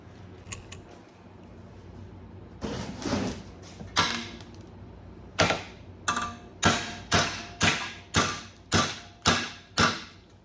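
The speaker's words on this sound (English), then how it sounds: "I'm gonna need a hammer." Scattered knocks give way to a run of sharp hammer blows on a metal car alternator bracket, evenly spaced about every half second, each ringing briefly before the next.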